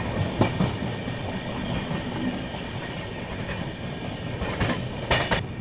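The Ahmedabad Gorakhpur Express rolls along the tracks, heard from on board as a steady rumble with clickety-clack wheel beats in short bursts at the start and near the end, no voices.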